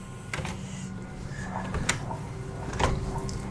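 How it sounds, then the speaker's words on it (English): A locked patio door being tried, several sharp rattling clunks spread over a few seconds against steady room noise, close by with no talking. "nope, that door does not open."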